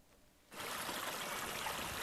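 The Raffaré, a sluggish river choked with rubbish, gives a soft, steady rush of flowing water that starts abruptly after a brief quiet moment and continues evenly.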